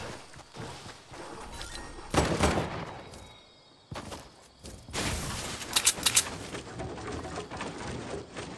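Gunfire in the Fortnite video game: loud, irregular bursts and rapid volleys, some close and sharp, others softer and more distant, with a brief lull midway before heavier shooting resumes.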